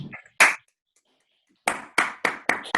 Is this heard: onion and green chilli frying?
no